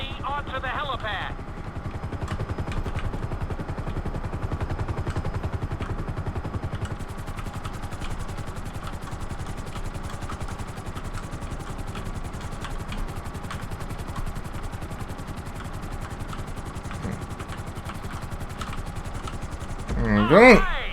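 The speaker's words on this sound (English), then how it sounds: "Bring the helicopter down gently onto the helipad." A Grand Theft Auto V helicopter descends onto a helipad, its rotor chop droning steadily under intermittent talk, with a louder clatter at the very end.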